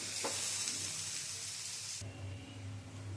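Squash curry fries in a pan with a soft, steady sizzle that is fairly quiet. The hiss thins out partway through, leaving a gentler bubbling fry with stirring.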